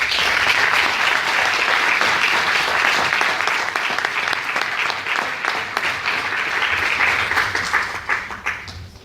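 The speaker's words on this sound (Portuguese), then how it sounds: "para quem eu peço um merecido aplauso de todos" Sustained audience applause at a Portuguese public talk or ceremony at the Museu de Portimão, dense steady clapping from a crowd lasting several seconds before thinning out at the end.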